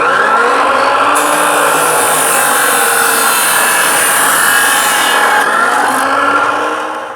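Power saw cutting through a Porsche 914 exhaust pipe, a loud, steady, continuous grinding whine held close for several seconds before tapering off at the end.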